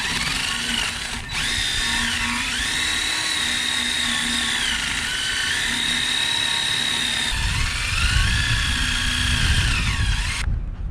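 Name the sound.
wire wheel on drill cleaning shaft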